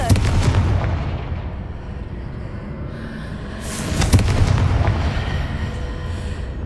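A Confringo fire spell exploding in the Hogwarts Legacy video game: a rolling, rumbling boom fills the scene, with a sharper burst partway through and a long, heavy reverberating tail.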